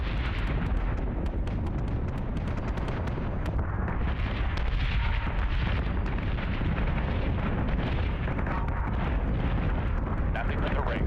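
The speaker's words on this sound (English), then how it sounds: "We're taking sustained fire." A warship in Battlestar Galactica Deadlock pounded by sustained weapons fire, a dense, loud, unbroken barrage of booms and blasts with voices mixed into the din.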